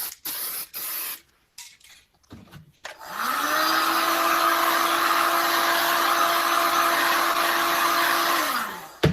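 A spray paint can hisses in one steady, continuous burst lasting several seconds, close and loud, laying down a fade. Brief rattling and clicking from shaking the can comes before it.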